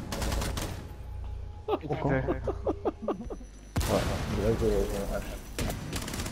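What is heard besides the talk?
gunfire in Rainbow Six video game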